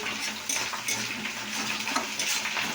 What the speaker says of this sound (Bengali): যাই হোক দেখতে পাচ্ছি নাড়া হলো, তো এবার আমি আলু ধোয়া আছে, আলু কটা দিয়ে দিলাম।